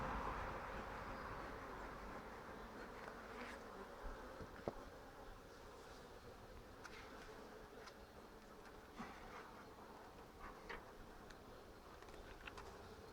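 Faint buzzing of honeybees flying up around an opened nuc hive after smoking, a low steady drone with occasional closer passes and small knocks in the background.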